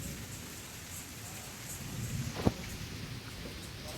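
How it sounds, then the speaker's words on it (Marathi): Soft, steady rainfall hisses evenly throughout, faint and distant, with one brief sharp tap partway through. "पाऊस आम्ही पाऊस बघतोय"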